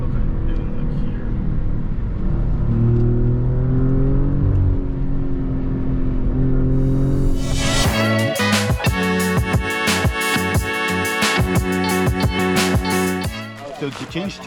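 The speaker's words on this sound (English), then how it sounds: "Look like if we do like second gear and we floor it." A car floored in second gear builds a loud engine roar that climbs steadily in pitch, then gives way to a burst of loud music and clattering near the end, with people talking over it.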